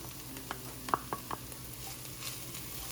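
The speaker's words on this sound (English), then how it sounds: "I've been cooking the onions for about 5 minutes now. I'm going to now add the garlic and ginger." Onions, garlic and ginger cook quietly in a pan, a soft low sizzle with a few light taps and stirring scrapes near the middle.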